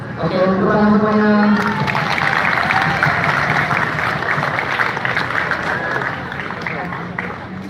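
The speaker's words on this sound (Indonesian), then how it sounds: "Oke, tepuk tangan semuanya." An audience applauds at a Teachers' Day ceremony, a steady wash of clapping that runs the whole time, with voices and other sounds mixed in and briefly some tonal music near the start.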